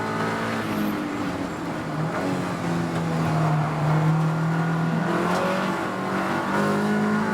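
Race car on the Snetterton circuit during a 750 Motor Club endurance race, engine droning steadily at high revs as it passes, loud and continuous with a slight rise and fall in pitch.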